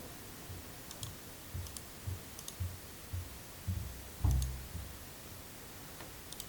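A computer mouse clicks quietly while measuring a stockpile volume in Pix4Dmapper 3D mapping software, producing sharp isolated clicks spaced irregularly about half a second apart, with one louder cluster near the end, over a low hiss with no talk.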